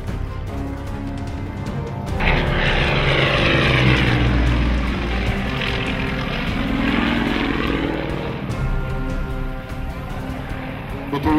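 A Yak 52 propeller aircraft performs at an air show, its radial engine droning loudly as it sweeps past with a rising and falling roar that stays strong throughout, with some commentary faintly underneath.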